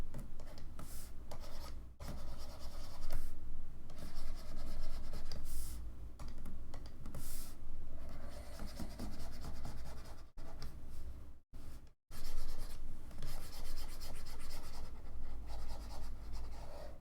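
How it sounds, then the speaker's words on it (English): A rubber eraser rubs out pencil marks during a drawing and painting session, a steady scratchy scrubbing with short pauses and brief silent gaps, close and fairly quiet with no talking. "use the rubber to rub out"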